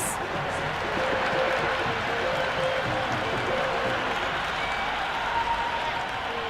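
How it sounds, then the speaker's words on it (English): A cricket stadium crowd cheers and applauds a six, a broad, steady wash of clapping and roaring near and far. A commentator speaks over the noise. "The crowd are loving every minute of this match."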